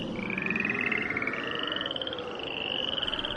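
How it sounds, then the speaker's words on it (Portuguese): Frogs croak in a rapid trilling chorus, steady pulsing calls that overlap and carry on without pause, moderately loud over a low background hum. "as rãs saíram das águas e cobriram todo o país"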